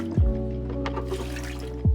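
Coconut water pours for a tart cherry smoothie, an even, close liquid stream lasting about two seconds, with soft knocks as the pour begins and ends.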